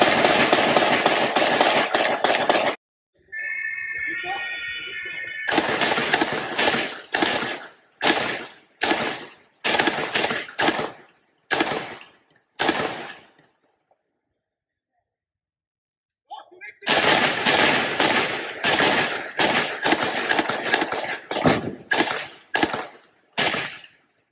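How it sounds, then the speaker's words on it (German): Police fire MP5 submachine guns during an armed attack on a street, recorded as loud, sharp shots in bursts and single cracks with short pauses in between. "Der Polizist hatte hier sichtlich Probleme, mit seiner MP5 den Täter zu treffen."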